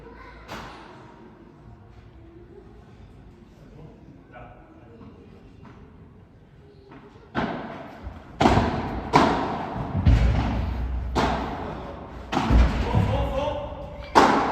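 Padel ball struck in a rally during a P1000 tournament match at a football club: after a quieter stretch of crowd murmur and commentary, a run of sharp, loud hits and volleys cracks out at roughly one-second intervals.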